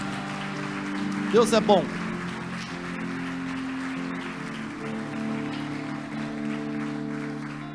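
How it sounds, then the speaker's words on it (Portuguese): Church congregation applauding during a worship service, a steady wash of clapping that runs the whole time beneath a voice speaking and a sustained musical tone. "Então vamos aplaudir mais uma vez o nome do Senhor."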